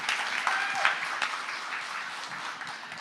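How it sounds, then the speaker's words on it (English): An audience claps in a round of applause at a regional housing summit, a moderate, steady patter of hands lasting a few seconds with faint voices mixed in. "Can we also get a round of applause for Maribel Cruz for putting on today's event,"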